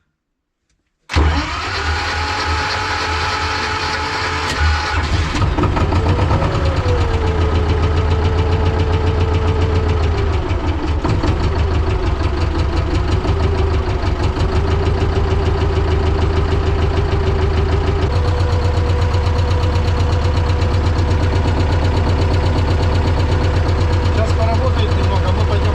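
T-16MG self-propelled chassis tractor engine started in winter: the engine catches suddenly and loudly after a brief silence, then settles into a steady, heavy idle with a droning, knocking rumble that shifts tone slightly and stays close.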